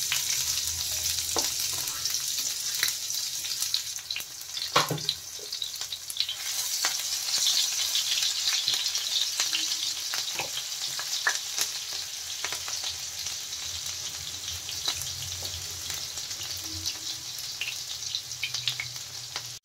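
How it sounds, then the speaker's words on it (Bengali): Five-spice tempering, chopped onion and green chilli fry in hot oil, a continuous close sizzle with scattered crackles and occasional utensil taps running steadily throughout. "আমার গরম হয়ে গেছে, এবার ফোড়নটা দিয়ে দেব। তারপরে দেব পেঁয়াজ আর লঙ্কা কুচিটা"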